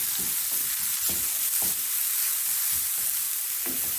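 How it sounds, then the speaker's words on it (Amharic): Chopped red onion and garlic fry in a pan with a continuous close, bright sizzle, broken by soft stirring scrapes throughout. "እሺ ቀይ ሽንኩርት ከዛችን እንደዚህ ጠበስ አደርጋለሁ።"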